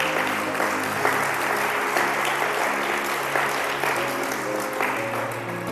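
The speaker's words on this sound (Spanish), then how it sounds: "Aplauda a Dios porque Él es fiel." A church congregation applauds steadily throughout, dense continuous clapping with a sustained musical tone or organ chord underneath, at an even moderate level with no break.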